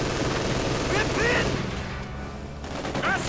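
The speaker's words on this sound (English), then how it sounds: "the MG40 crewed by shock troopers, quickly putting a stop to NoiseofCarpet's attempt" MG40 machine gun fire in the strategy game Company of Heroes 2 crackles in rapid bursts amid a dense wash of distant battle noise, continuous and moderately loud across the clip.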